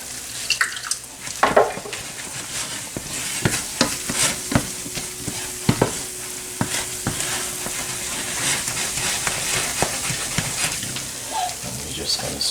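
Coconut raisin fudge stirred in a pot with the heat just switched off at softball stage, a steady scraping and bubbling texture with a few sharper knocks, fairly close and moderate in level.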